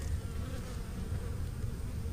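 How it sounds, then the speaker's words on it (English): Honey bees buzz at the hive, a close, steady low drone that fills the clip with no voices. "There's a bee that came back with pollen and never made it into the colony."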